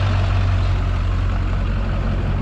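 A truck hauling a 45-foot trailer loaded with a shop building arrives, its heavy diesel engine idling and rumbling low and steady, with no other sounds over it.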